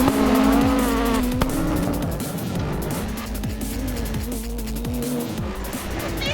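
Fast cars, including off-road mud buggies, drive flat out around a rally-style track with no runoff. A loud engine roar rises and falls through the gears with tire noise, and there is no talking.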